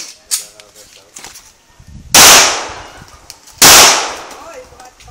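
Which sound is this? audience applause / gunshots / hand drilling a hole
gunshots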